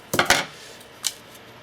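A couple of quick metallic scissor snips close up cutting open a seed packet, followed by a brief lighter rustle, then near silence.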